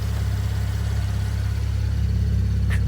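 A car engine fitted with a K&N cold air intake idles close by, a loud, steady low rumble and hum that holds an even pitch throughout, with no talking.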